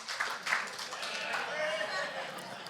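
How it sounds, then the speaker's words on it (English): Faint, scattered clapping from wedding guests for the stag party during the wedding speeches, soft and distant under a speaking voice. "lads, give yourself a round of applause there"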